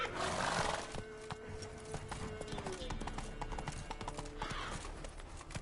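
Roach, a horse in The Witcher 3, gallops in a steady clip-clop of hooves under a voice urging it on, with a brief whinny and game ambience around it.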